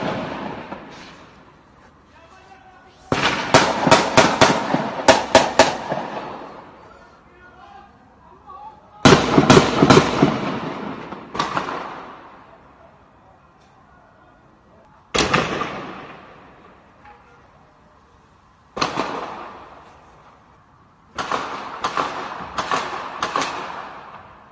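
Gunshots during night clashes in Sheikh Jarrah crack out in rapid clusters of sharp reports. Several loud bursts are separated by short quiet gaps, and voices can be heard in the background.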